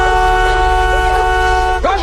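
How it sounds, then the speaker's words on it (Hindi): A car horn blares in a steady, sustained tone for about two seconds at a deserted forest camping spot, loud and close, wavering slightly near the end. "डर के मारे लड़की जल्दी से कार का हॉर्न बजाती है ताकि बाहर के आदमी को डराकर भगा सके"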